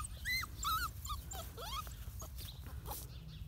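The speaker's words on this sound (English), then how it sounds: "every once in a while I've noticed one of my half Basenji puppies will bark" Half Basenji puppies yip and bark in a run of short, high, pitched calls with whimpery rises, fairly close, over a steady low rumble and no talk.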